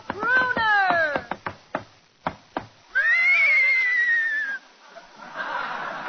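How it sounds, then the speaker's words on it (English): A horse whinny sound effect on a vintage Abbott and Costello radio comedy show: a loud descending neigh, a few sharp knocks like hooves, then a second long, high, wavering whinny, ending in a burst of broadband noise. "Abbott, there's somebody riding into the studio on a horse."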